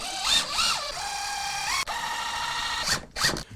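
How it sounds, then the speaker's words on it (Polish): A cordless drill drives screws into a wooden bench seat: whirring bursts that rise and fall in pitch, then a long steady run, a brief stop and a few shorter spins, all loud and close. "Pamiętajcie, wkręty odpowiedniej długości, wkrętarka i skręcamy."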